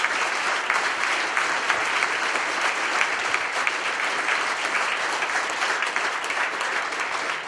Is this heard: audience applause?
yes